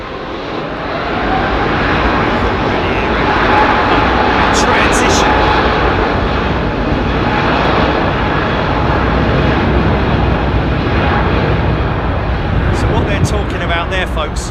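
An aircraft jet engine at Heathrow Airport spools up from idle toward full takeoff thrust, a loud, steady, broadband roar that fills the whole stretch with little change in level.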